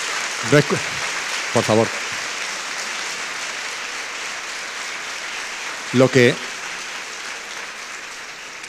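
Applause from a lecture audience in Alcoi, a steady wash of clapping throughout, with a voice speaking a few short words over it now and then.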